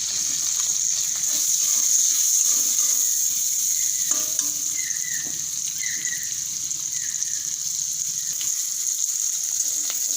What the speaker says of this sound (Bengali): পেঁয়াজগুলো খুব বেশি ভাজবো না, হালকা করে ভেজে নিয়েছি।